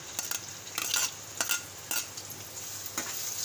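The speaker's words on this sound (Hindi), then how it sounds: "इसको सौते करेंगे फास्ट आंच पे।" Chopped onions sauté in oil over high heat, giving a steady bright sizzle with regular scraping stirs breaking through it, close up and without any voices.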